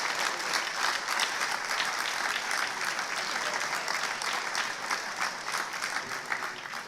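A large audience at the 29th Nigeria Economic Summit gives dense, sustained applause that fills the whole stretch and fades slightly toward the end.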